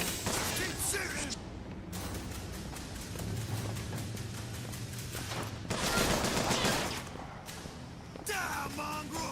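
Gunfire in the video game Bioshock Infinite rattles in dense bursts with crashes and thuds, a busy firefight loud and close amid game sounds.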